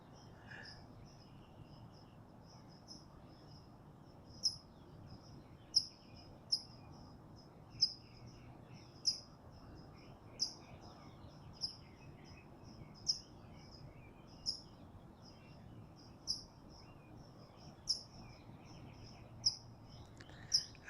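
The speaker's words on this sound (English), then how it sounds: "Happy sunrise. You can hear the sounds. Birds are awake," Repeated short bird chirps at sunrise ring out at a steady pace over a low, constant outdoor hum, with faint insect-like trills in the background.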